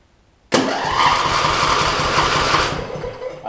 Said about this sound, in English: tried to crank it.